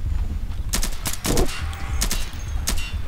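Rapid rifle gunfire in the Insurgency game, loud close bursts of shots punctuating a steady background rumble, with no talking.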